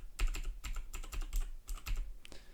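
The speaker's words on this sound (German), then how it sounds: "das Klicken einer mechanischen Tastatur" A mechanical computer keyboard clicks in quick bursts of typing, close and clear, with short pauses between runs of keystrokes and no voices.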